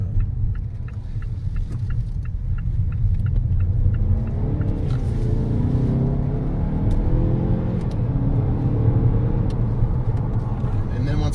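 A 2020 Mazda 6 Turbo circles a roundabout in a sporty drive mode, a steady low engine and road rumble filling the cabin while people talk over it.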